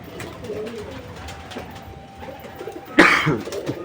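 A caged pigeon coos softly and repeatedly at close range, followed by a sudden louder rustle or clatter near the end.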